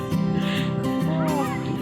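Geese honking loudly and repeatedly at close range, harsh overlapping calls with some commotion in the background.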